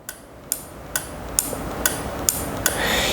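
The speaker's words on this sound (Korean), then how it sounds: "릴레이가 적용되어 있다 보니까 약간 수신기에서 이제 틱틱 소리가 날 수는 있는데" A GUGU wireless touch switch receiver's relay clicks sharply about seven times at a steady, quick rhythm, close and distinct over faint background hiss.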